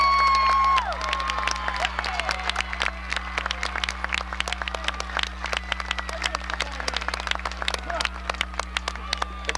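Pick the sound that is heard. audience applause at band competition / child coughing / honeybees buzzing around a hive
audience applause at band competition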